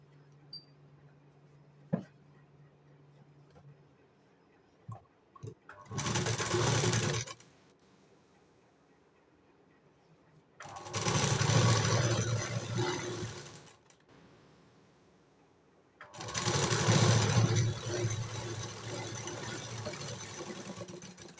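A sewing machine stitching the corner of a blouse runs in three separate bursts of a few seconds each, loud and close, with quiet pauses and small handling clicks between them.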